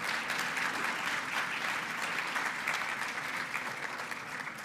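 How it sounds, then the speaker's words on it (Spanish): A seminar audience applauds warmly to welcome a speaker, a steady, dense clapping close by throughout with no pauses. "Lo vamos a recibir con un fuerte aplauso."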